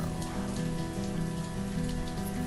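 Steady rain falls in the city-building game Banished, a dense, constant patter filling the whole stretch without a break, with no voices.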